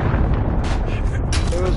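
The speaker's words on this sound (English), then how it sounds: "Hello, cruise missile." A cruise missile strike in a shooter video game lands as dense, rumbling low booms that run continuously and loudly under game chatter, with a voice talking over it.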